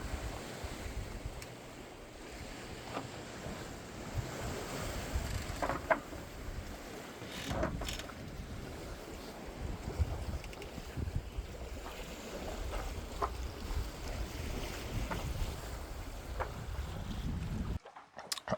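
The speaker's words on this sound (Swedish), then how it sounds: "vågorna och vinden susar härligt i luften" Waves wash and splash against a sailboat's hull on the Caribbean Sea while wind rushes steadily past, a continuous open-water roar with occasional sharper gusts and knocks; no one speaks.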